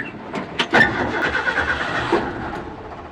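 A Ford F100 pickup engine cranks over with a few quick turns, catches, and settles into a rough, uneven idle, heard close up with no talking.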